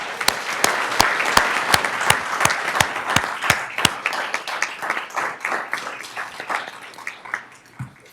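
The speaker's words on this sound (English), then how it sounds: "I think our superintendent deserves a round of applause" Applause from a school board meeting audience honoring the superintendent, a sustained round of many hands clapping with a few sharp, close claps standing out early, tapering slightly toward the end.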